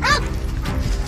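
A police dog barks sharply at the start, a quick yelping bark close by, followed by a brief second yip amid background noise and commotion.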